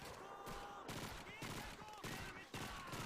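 Sustained gunfire in the Call of Duty 2 video game, with rapid continuous bursts of rifle and machine-gun shots in a dense, unbroken clatter, with someone talking briefly over it.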